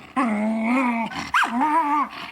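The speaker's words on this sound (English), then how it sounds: "Moose was a Jack Russell Terrier." A Jack Russell Terrier growls and whines close up, a sustained tonal rumble that breaks into a sharp yelping rise and then settles back into a wavering growl, loud and alone.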